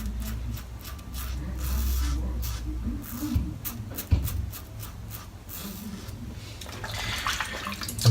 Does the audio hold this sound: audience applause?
no